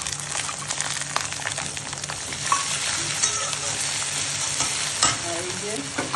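Onion, tomato and ginger sizzle and fry in oil while a utensil scrapes and stirs through them, a continuous close crackle with irregular knocks against the pan.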